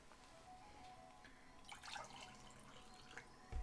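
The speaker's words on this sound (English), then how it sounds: "serving more water here on the coffee cup" Water pours into a coffee cup at a desk, a faint trickle and a few small splashes and drips rising midway, quiet and close, with a soft bump at the end.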